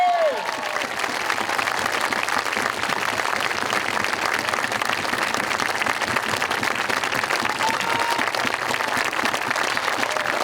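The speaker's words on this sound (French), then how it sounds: "Applaudissements, s'il vous plaît!" Sustained audience clapping after a 2010 son et lumière show in Brebotte, a continuous, even roar of many hands that holds at the same level throughout.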